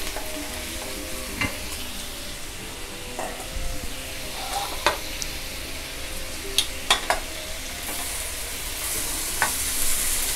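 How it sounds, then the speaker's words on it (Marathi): Onion fries in a pan for paneer mushroom masala while tomatoes go in, a constant sizzle broken by clicks and scrapes of a spoon against metal, the frying swelling louder toward the end; no one speaks. "कांदा आपला चांगला भाजला जातो आहे. आता मी ह्याच्यामध्ये टोमॅटो घालते."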